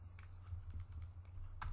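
Typing on a computer keyboard, quiet close key taps in an irregular run over a low steady hum, with a slightly louder cluster of clicks at the end.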